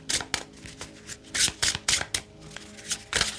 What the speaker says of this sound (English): I want to shuffle this deck and just kind of show you how beautiful this is to shuffle